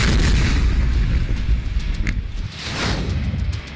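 A heavy rumbling bomb blast near Kabul airport, loud and deep, rolling on with a low roar and some crackling debris noise as it fades.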